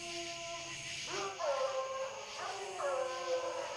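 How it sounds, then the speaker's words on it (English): Coon hunting dogs howling and baying on a track near a creek at night, long drawn-out howls rising and falling in two waves, fairly distant, with steady background hum and no talk. "You can tell the dogs apart by their barks."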